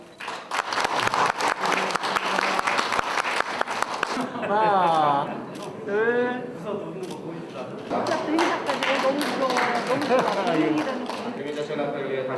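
At a residents' autonomy committee outgoing and incoming chair ceremony in Cheonan, the audience claps briskly for about four seconds, then the applause stops and a person speaks at length.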